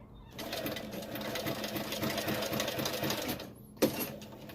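A sewing machine whirs in a fast, steady mechanical rattle for a few seconds, then stops, followed by a short clunk.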